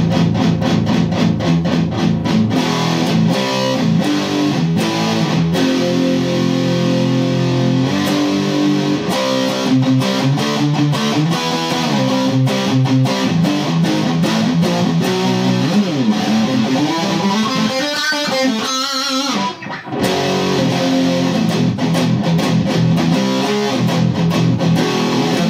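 Continuous electric guitar playing through a Joyo effects pedal at full gain, loud and dense with sustained distorted notes and a fast run near the end, with no voices over it.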